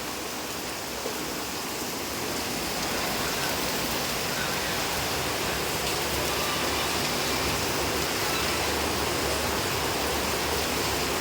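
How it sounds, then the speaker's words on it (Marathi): Heavy monsoon rain pours down steadily and loudly at close range, a dense unbroken hiss that holds for the whole stretch with no voices. "पडत आहे चांगलाच पडतोय पाऊस"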